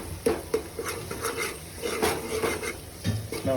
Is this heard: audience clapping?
no